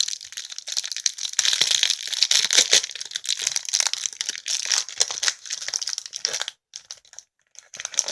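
Plastic wrapping torn and crinkled off a jelly phone case close to the microphone, a dense run of crackling, rustling crunches with short pauses near the end and no speech.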